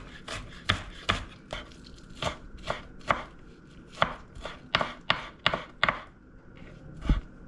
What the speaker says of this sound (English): when you chop all this up together like this, you just take your knife and just go through it to chop it up a little bit smaller